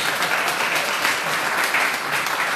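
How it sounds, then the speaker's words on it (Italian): Audience applause at a religious catechesis gathering near Reggio Emilia, a dense, steady crowd clapping that fills the whole moment without pause, fairly loud and close, with no clear talk over it. "Meno male che però l'applauso parte da voi."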